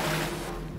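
Water sloshing in the Battlefield Hardline video game, a brief, dense, steady wash of rushing water that is loud and close with no talk.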